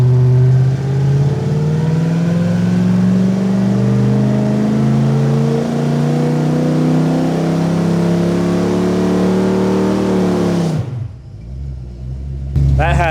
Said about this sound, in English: it sounds too healthy out the exhaust to just be a stock 350 Buick